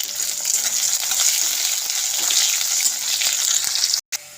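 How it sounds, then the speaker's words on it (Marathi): Potato pieces and crushed green chillies frying in oil for sabudana khichdi, a loud, steady hiss of sizzling with stirring scrapes throughout and a brief cut near the end. "दोन मिरच्या ते ॲड करूया ते पण छान तेलावर परतून घेऊया"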